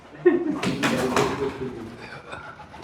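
A pigeon gives a short, soft cooing call close by, with faint background murmur trailing after it.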